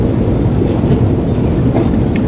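Metro train in Tbilisi rumbling steadily underground, a loud continuous low roar of wheels on rails with faint clatter and a brief high squeal near the end.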